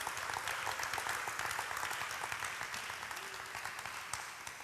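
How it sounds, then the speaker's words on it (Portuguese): A church congregation applauds continuously during a sermon, a dense wash of clapping that holds steady and slowly fades slightly, heard at a modest distance. "Pode aplaudir a palavra de Deus mesmo"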